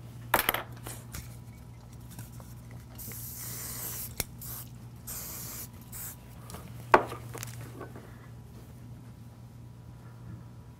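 Short hissing bursts of Volume X hairspray from an aerosol can, two longer sprays in the middle with a couple of clicks and knocks around them, close and fairly quiet over a low background hum.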